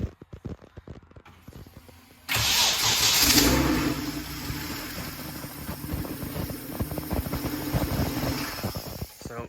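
A Ford Capri 2.9 Cosworth twin-turbo engine starts on the key, a brief crank catching abruptly into a loud rumbling idle that surges briefly, then settles into a steady close running note.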